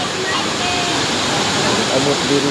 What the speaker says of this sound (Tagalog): Yung nag-agas na tubig nagikan sa babaw